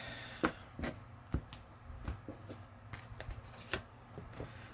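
Tarot cards being cut and shuffled by hand, a series of close, soft slaps and riffling taps at irregular intervals, quiet with no talking.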